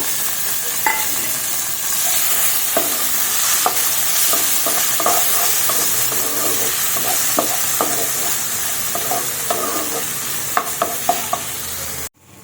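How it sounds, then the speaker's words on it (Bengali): Chopped onions fry in a pan after cumin seeds, a steady close sizzle broken by repeated scraping stirs and spoon clicks throughout, with no talking. "জিরা থেকে সুন্দর একটা গন্ধ বেরোলে আর ভাজা হয়ে গেলে তখন কিন্তু পেঁয়াজ কুচিগুলো দিয়ে দিলাম।"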